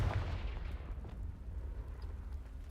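Confringo spell in the video game Hogwarts Legacy, a heavy booming blast that bursts at the start and then rolls away into a fading low rumble.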